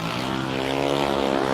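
A junior dragster's small single-cylinder engine launches down a drag strip, giving a steady, loud, buzzing drone with a dense stack of harmonics that holds for the whole stretch without any voices over it.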